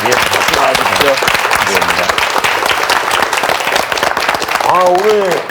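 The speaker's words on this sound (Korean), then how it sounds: "박수 나와주시죠" A Korean TV studio audience claps for a sports medicine doctor after a New Year health lecture, a steady wash of applause with a host's voice talking over it at points.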